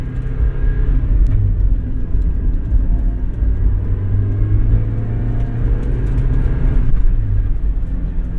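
A Mazda Miata with new door bushings is heard from the passenger seat while driving, giving a constant low road and engine rumble with steady wind noise and faint occasional ticks.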